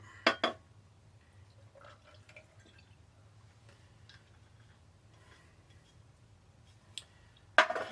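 A glass holding a drink of melon liquor and Mountain Dew gives a few bright drips and clinks in a quiet room. A sharp cluster comes near the start and another at the end, with faint small sounds between.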